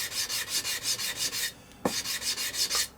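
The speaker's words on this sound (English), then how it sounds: "because I need to form a fillet, I need to sand that" Rhythmic, raspy strokes of sandpaper rubbing across a wooden fillet on a model warbird cowl ring, close up, with a brief pause partway through before the steady back-and-forth resumes.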